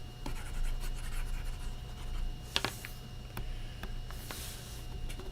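A pen scratches out a lithium atom diagram with its orbits, giving soft, faint strokes and taps over a steady low hum, with one sharper scrape midway.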